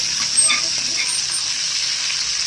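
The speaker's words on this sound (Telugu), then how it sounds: "ఒకసారి తిప్పుకుని చూద్దామండి ఫ్రై ఎలా ఉందో." Fish frying in a pan for a fish curry gives a steady, close hiss of sizzling oil that holds even throughout, with a few soft clinks near the start.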